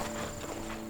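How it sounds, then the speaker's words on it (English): Horse hooves clip-clop in a quick, even rhythm beneath a steady background hum, moderately close. "must be on a horse."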